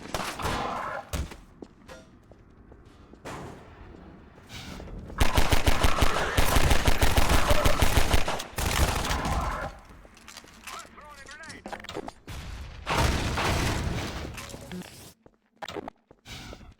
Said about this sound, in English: Alex, shoot this gas tank.